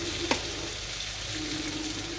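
Food frying in a pan with a steady, hissing sizzle throughout, a faint utensil click near the start and no voices.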